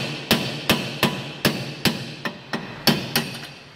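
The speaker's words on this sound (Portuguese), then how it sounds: "Marreta, cara, marreta." A sledgehammer strikes metal about ten times in a steady rhythm in a car workshop during a tire change on a Pajero with damaged wheel bolts, each blow sharp, loud and close.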